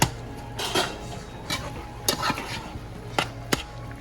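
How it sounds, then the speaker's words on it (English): A spoon stirring garlic parmesan into homemade beefaroni in a pot, with several distinct metallic clanks and scrapes against the sides at an uneven pace, close and clear without talk. "This is the garlic parmesan. Okay, stir that inside."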